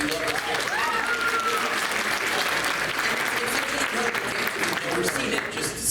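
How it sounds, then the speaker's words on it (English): Steady applause from a convention panel audience cheering scare actors from a Halloween Horror Nights Q&A, continuous and full for the whole stretch with some crowd noise beneath. "Let's give a round of applause for them."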